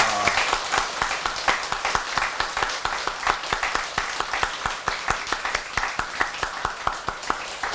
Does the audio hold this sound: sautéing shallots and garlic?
no